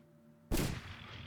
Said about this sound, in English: R2 to shoot with the revolver.